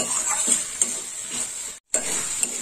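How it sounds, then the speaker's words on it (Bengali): Spice paste with salt being stir-fried in a pan for prawn malai curry, a steady close sizzle with scraping stirs and spoon taps against the metal, broken by one brief pause. "লবণ দেওয়ার পরে আর একটু কষা হবে।"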